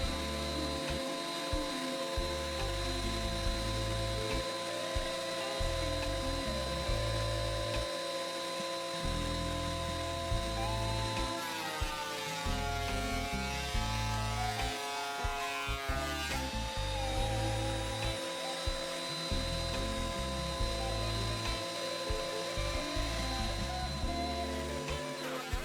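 A power wood planer thicknessing thin boards down to 6.5 mm, a steady loud whine and hum running nearly the whole time, with brief surges and changes in pitch as stock passes through the cutters.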